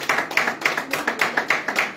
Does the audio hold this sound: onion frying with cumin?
no